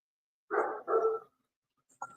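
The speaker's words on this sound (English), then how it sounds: "I hear the dog barking." A dog gives two loud, close barks in quick succession, then after a short silence a softer third bark, with no one talking over it.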